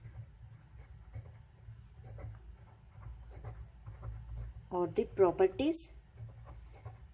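Faint, soft scratching of handwriting during a quiet lecture, with light strokes spread through the stretch and a short burst of voice near the end.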